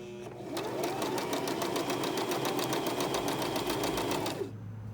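A sewing machine stitches fabric in a fast, steady mechanical rattle that runs close and continuous for about four seconds, then stops abruptly.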